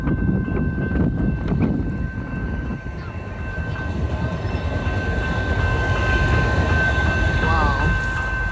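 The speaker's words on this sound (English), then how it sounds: "these trains are coming pretty fast, like really often" Metro rail trains passing on Houston tracks, a steady low rumble and rolling hum that fills the whole stretch, with a faint tonal whine above and occasional voices in the background.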